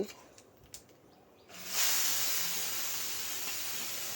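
Black cumin seeds dropped into hot oil for a bitter gourd dish, a sudden loud hiss and crackling sizzle that starts after a few small clinks and holds steady.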